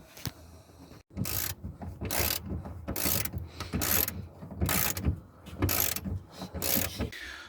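A ratchet wrench works on a seat belt anchor bolt in a Rover Metro, giving about seven sharp rapid clicking bursts in a steady rhythm, loud and close with short pauses between strokes.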